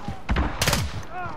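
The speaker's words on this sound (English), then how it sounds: "Teammate, why are you shooting me, bro?" Gunfire from a teammate in a shooter video game: short bursts of shots rattle out twice within about a second, loud and close, over a busy game-audio background.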